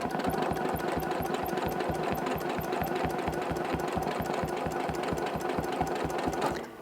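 A sewing machine quilts stitches along a ruler at a steady rapid needle rhythm, running loud and continuous up close with no pauses.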